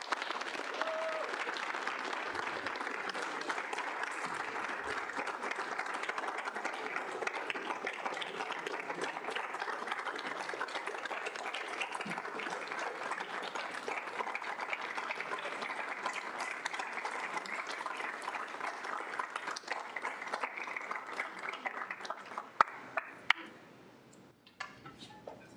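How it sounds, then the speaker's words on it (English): Sustained round of applause from a student senate gathering, dense indoor clapping holding steady for over twenty seconds before thinning into a few scattered claps. "I think that probably warrants a round of applause."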